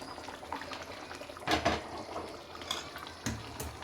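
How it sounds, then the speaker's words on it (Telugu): Tamarind water poured into a pan of fish curry, a quiet close splashing and trickling with a couple of louder gushes and faint pan clinks. "ఇప్పుడు మనం చింతపండు పులుసు వేసేసుకుందామండి"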